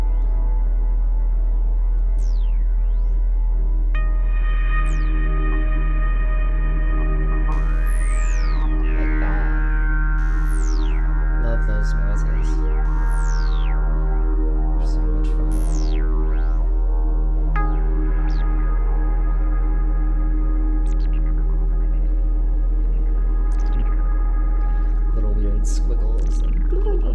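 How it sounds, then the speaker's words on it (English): Sparkling, glassy synthesizer tones from a Morphogen module on a modular synth, with pitch sweeps and chirps rising and falling over sustained droning pads in an ambient healing performance, steady and fairly loud throughout. "more glitter tones going from the morphogen"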